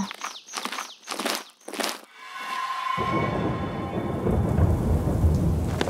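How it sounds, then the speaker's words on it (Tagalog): Heavy rain pours down with thunder. Several rumbling claps come first, then a dense, steady roar of downpour close by that drowns out everything else. "Grabe, ang lakas ng ulan."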